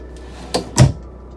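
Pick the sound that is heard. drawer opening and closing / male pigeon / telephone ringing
drawer opening and closing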